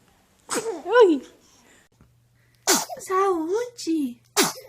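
Two baby sneezes, each a short high-pitched squeaky burst, heard up close against a quiet room; the second is followed by brief babbling and a final sharp sneeze near the end.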